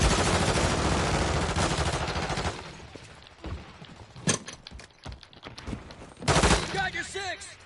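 Rapid automatic gunfire in the Call of Duty Modern Warfare 3 video game, a dense burst of shots for the first few seconds followed by scattered single shots and short volleys, loud and close.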